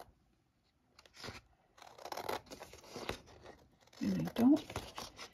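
Scissors snip through a paper file folder during a Christmas craft project, giving a few short crisp cuts and crinkles, close and moderately loud, with a person speaking briefly.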